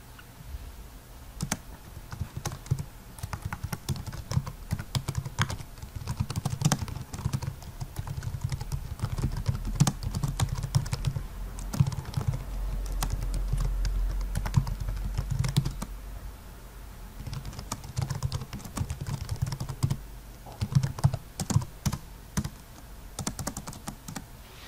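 Fingers type steadily on a computer keyboard nearby, a continuous patter of light clicking keystrokes with brief pauses, with no voices over it.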